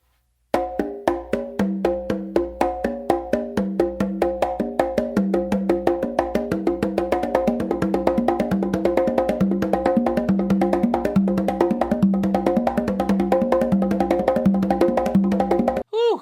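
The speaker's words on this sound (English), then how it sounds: "go back to the beginning and do an open slap with your dominant hand and start the whole circle again" A long, fast, unbroken stream of open slaps circles around conga and tumba drums. The ringing cracks come in a dense, steady rhythm that builds slightly in loudness, played close and alone before stopping abruptly.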